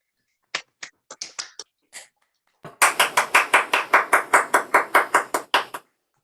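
Scattered claps from people joining an online call in applause for a nursing honoree, first a few sparse separate claps, then a brisk run of about fifteen sharp, close, evenly spaced claps.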